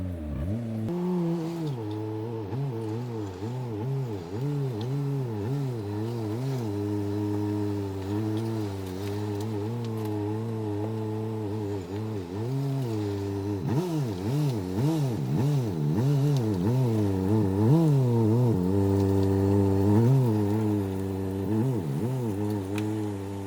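A Saab 9-3 being driven out of a scrapyard after restoration work, its mid-pitched engine droning steadily with repeated swells of revving and easing off, close and continuous with no talking.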